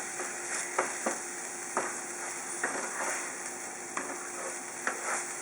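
Saffron is stirred into paella rice in a hot pan: a steady bright sizzle runs throughout, broken by several distinct scraping strokes of the spoon at irregular intervals.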